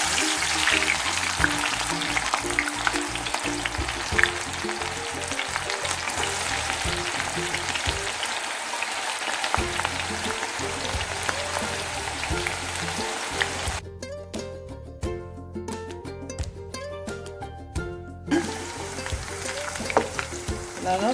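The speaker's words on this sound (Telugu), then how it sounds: "ఆయిల్ మరిగిందండి కాకరకాయ ముక్కలు డీప్ ఫ్రై చేస్తాను" Bitter gourd pieces deep frying in hot oil give a steady, dense sizzle and crackle throughout, with a brief brighter burst of bubbling partway through and no talking.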